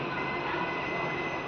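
A DEMU train standing at Panyam station, its steady, even hum and rumble continuing without a break at moderate level, with no voices.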